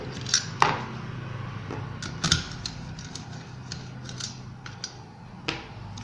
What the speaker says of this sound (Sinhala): හරි අටේ නට් තුනක් අයින් කරගන්නවා